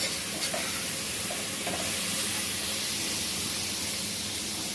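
Onions and whole spices for chicken biryani frying in a pot, a steady dense hiss of oil with a few faint stirring knocks near the start, close and unbroken by voices.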